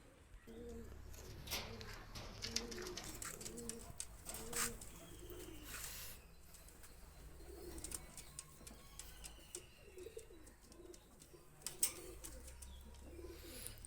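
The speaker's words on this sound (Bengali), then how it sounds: "দুইটা কবুতর আমি ছেড়ে দেখাচ্ছি" Two released Pakistani high-flyer pigeons coo softly in repeated low throaty calls, with wing flaps, small chirps and scattered clicks in a quiet outdoor setting.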